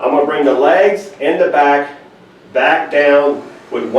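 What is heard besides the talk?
None of the usual background noises is heard.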